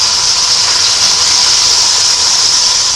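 Beef short ribs searing in a hot pan, a steady continuous sizzle and hiss that stays loud and even throughout with no talking.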